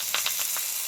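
Mourola fish frying wrapped in banana leaf, a continuous bright hissing sizzle with a few quick pulsing crackles over less than a second, no talk.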